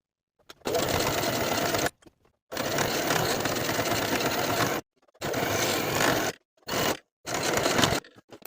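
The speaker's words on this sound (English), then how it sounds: "Sew the cuff in place with a 5/8 inch seam allowance" A sewing machine stitches a jersey knit cuff onto a sleeve in loud, steady bursts of motor whir, several runs of a second or more broken by short pauses.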